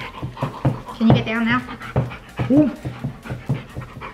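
A dog pants and whimpers up close in short breathy bursts, mixed with high yips, while someone talks to it over the top.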